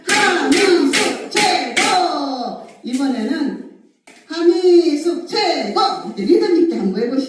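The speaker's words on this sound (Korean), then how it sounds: "자기 이름하고 최고 다 박수 다섯 번 시작" A group of women claps in unison during a self-esteem clapping exercise, several bursts of sharp, rhythmic claps close by, mixed with cheerful voices calling out between rounds.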